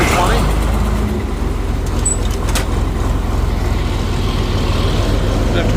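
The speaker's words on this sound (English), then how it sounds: "we are going to back the combine out" A combine harvester's engine rumbles loud and close in a steady, unbroken drone while the machine backs out, with faint talk mixed in beneath the noise.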